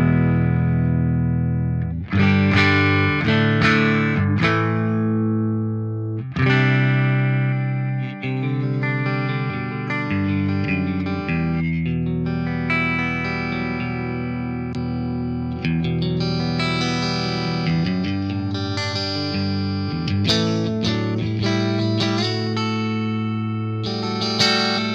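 Electric guitar on the neck pickup through a clean amp with no effects engaged, playing a full, sustained passage of ringing chords and melodic runs at steady volume.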